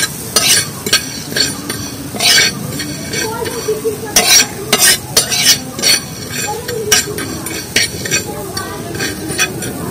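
Cumin, fenugreek and mustard seeds are stir-fried dry in a pan until black, a loud sizzle broken by repeated scraping and clinking strokes of a spoon against the metal.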